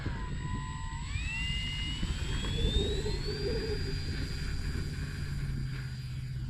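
Dynam Skytrainer 182 RC airplane with takeoff flaps set, its electric motor whining and rising steadily in pitch as it throttles up for takeoff, loud and close throughout with steady broadband wind and rolling noise beneath.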